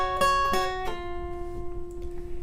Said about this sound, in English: You pluck it, and then you pull off with your middle finger.